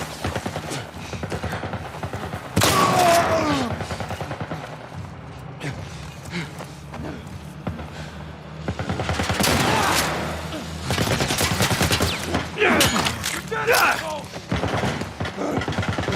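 Gunfire in The Last of Us Part I, heavy automatic bursts and sharp shots in several loud clusters with quieter gaps, mixed with thuds and a voice talking.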